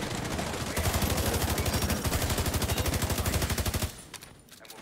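Rapid automatic gunfire in The Division 2 rattles out as a long, fast, even burst of shots, loud and close, ending abruptly in near quiet.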